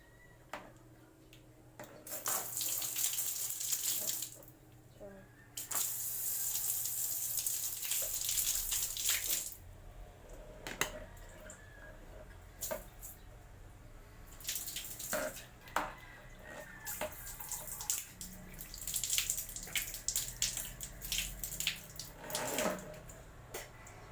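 Water runs from a tap into a sink while hands are washed, a close splashing stream that comes in bursts and stops, with short pauses and small knocks in between.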